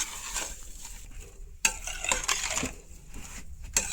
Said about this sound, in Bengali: কম লাড়াছাড়া করিয়া চিনিটা মিশাইম